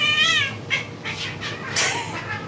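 A house cat meows several times in a row, close and fairly loud, with a few drawn-out, wavering calls spread across the moment.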